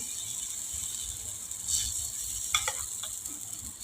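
Tomato omelette batter hits a hot pan and sizzles, a steady close frying hiss with a few scraping clicks partway through, no talking.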